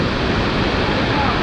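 Sini waterfall rushes in a constant, dense roar of falling water that fills the scene evenly and steadily from start to finish.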